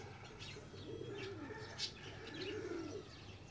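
Soft low cooing of pet pigeons, a few rolling calls close by with faint chirps and light background noise.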